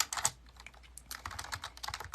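Rapid, uneven clicking of keys on a computer keyboard, close and fairly quiet, with short bursts and brief pauses and no voices.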